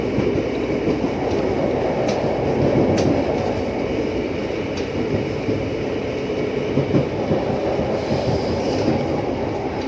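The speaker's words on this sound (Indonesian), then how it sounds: "Kita papasan sama kereta api komuter." A KRL commuter train on the Jakarta–Bekasi line rumbles steadily close by for the whole stretch, with rolling wheel noise and occasional faint squeals and clicks from the rails.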